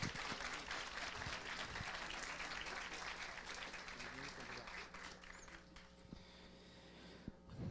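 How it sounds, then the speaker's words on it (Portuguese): Audience applause for a candidate at an opening session of a political hearing: dense, fairly faint clapping from a crowd that thins out toward the end, with scattered claps and murmurs. "Uma salva de palmas ao nosso candidato."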